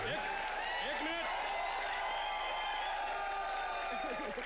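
A studio audience at a televised comedy show applauds and cheers in a steady, even wash, while people talk over it.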